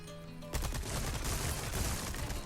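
Loud, dense gunfire from a shotgun and TMP submachine gun in Resident Evil 4, a sharp opening blast followed by sustained rattling shots over a steady noisy background.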